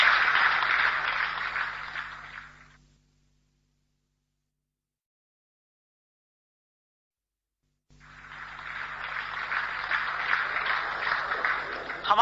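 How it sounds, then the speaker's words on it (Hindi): Audience applause in a Hindi motivational seminar hall, two bursts of dense clapping with a silent gap of several seconds between them, loud and filling the room. "तालियां हो जाए एक बार।"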